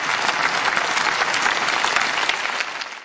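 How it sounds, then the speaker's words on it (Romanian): Sustained applause from German Bundestag deputies on their feet for Volodymyr Zelensky in Berlin, a dense, steady clapping from a large hall that holds at full strength for about three seconds before tailing off. "Volodymyr Zelensky a fost aplaudat în picioare de deputații Camerei Inferioare a Parlamentului German"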